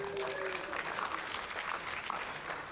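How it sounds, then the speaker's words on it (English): Light, scattered applause from part of a church congregation, fairly soft and distant, with a few voices murmuring faintly underneath for a couple of seconds. "That's a little bit light applause on that."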